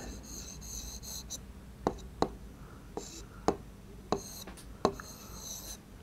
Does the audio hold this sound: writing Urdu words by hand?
yes